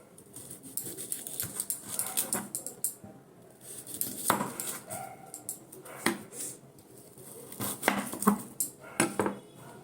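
A knife cuts potatoes for aloo chop in a kitchen, making irregular taps and clicks against a board or plate, close and moderately quiet.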